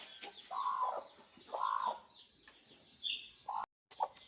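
A hen being settled onto eggs for hatching gives several close, distinct clucks and short calls at uneven intervals in a quiet setting.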